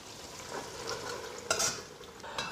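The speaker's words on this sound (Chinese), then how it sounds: "把它倒出来控油。" Fried winter melon is tipped out of a wok to drain its oil, a close sizzling hiss with scraping and a sharp metallic clank midway, followed by further stirring rattle.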